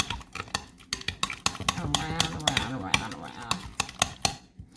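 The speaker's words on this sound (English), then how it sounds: "So I'm going to stir this around" Spoon scrapes and clinks against a bowl while potato salad dressing is stirred, giving a quick irregular run of close clatters with a brief swirling stretch in the middle.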